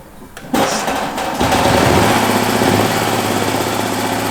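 A small single-cylinder BMW Isetta engine cranks briefly, then catches and settles into a steady, loud, chugging idle close by, with no talking.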